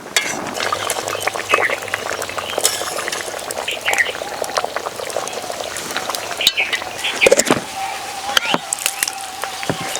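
Dahi katla, a yogurt fish curry, simmers in a pan with close, busy bubbling and popping, broken by occasional clinks of a utensil against the pan.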